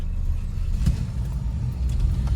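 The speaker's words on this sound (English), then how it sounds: "here is our driving review and video of our 1965 Buick Riviera Grand Sport" A 1965 Buick Riviera Grand Sport with a 430 four-barrel engine drives along, giving a steady, loud low rumble with a brief surge partway through.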